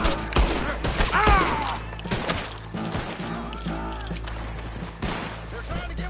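Gunfire crackles in Red Dead Redemption 2 as a fusillade of sharp shots, some close and loud and others scattered, mixed with shouting voices and game noise.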